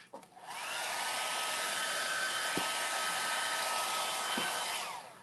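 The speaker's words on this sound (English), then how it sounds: "I'm going to dry this with a hairdryer just a little bit." A hair dryer drying Venetian plaster blows with a steady, loud whooshing hum for about five seconds, starting and stopping cleanly, with nothing else audible.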